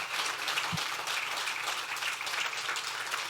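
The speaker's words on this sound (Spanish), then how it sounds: "Si quiere darle ese aplauso al Señor." A church congregation applauds in a dense, continuous wash of clapping that holds steady at moderate loudness, with no talking over it.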